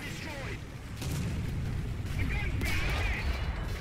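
Gunfire in the War Thunder tank video game, dense booming shots and rumbling blasts layered over continuous battle noise, loud and sustained, with players talking over it.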